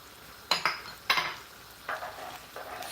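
A spoon stirs tomato puree and shrimp powder in a pot for black-eyed beans in palm oil, giving four separate scraping strokes, the first two sharper and louder, close and quiet with no talk.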